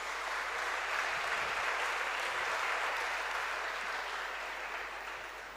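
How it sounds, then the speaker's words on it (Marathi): A large audience claps in sustained applause at the start of a speech, a dense, even wash that holds steady before tapering slightly toward the end. "भाषणाच्या सुरुवातीला इतक्या टाळ्या वाजल्या"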